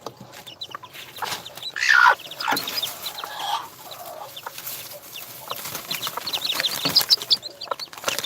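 A hen clucks repeatedly at close range. Her short, irregular calls come from a broody bird nesting on eggs, with one louder squawk standing out among steady farmyard rustling.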